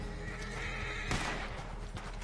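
A horse in Red Dead Online gives a loud whinny over a steady background of hoofbeats and game ambience.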